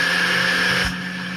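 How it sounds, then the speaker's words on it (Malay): An electric blender grinding corn flour filling ingredients runs as a steady loud motor whine, then cuts down to a lower hum near the end, with no talk. "Kita perlu kisarkan bahan ni"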